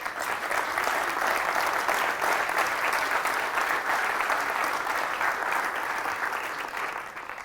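Symposium audience claps for George in Manchester, a sustained, even wash of applause from a seated crowd lasting several seconds before starting to fade.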